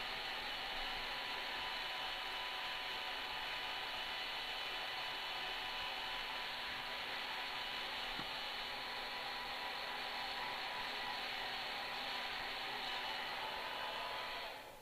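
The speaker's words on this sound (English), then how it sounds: "You can see that even on the intake of the blow dryer how much fur is gathered" A hair dryer blows rabbit fur with a steady, loud whooshing roar that runs unbroken throughout, then cuts off at the very end.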